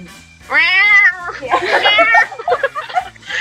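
A human voice imitates a pet cat's strange, angry-sounding meow with drawn-out, wavering cries, close and loud, followed by short vocal bursts.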